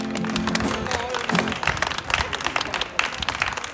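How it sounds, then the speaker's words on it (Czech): A café audience claps enthusiastically, a lively burst of many hands with scattered individual claps standing out, close and fairly loud, following a brief murmur of voices at the very start. "můžete si zatleskat tady v kafé Husovka"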